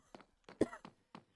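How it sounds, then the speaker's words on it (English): A person who has been battling sickness gives a few short, quiet coughs in quick succession, separate dry bursts near the microphone. "here's my cough"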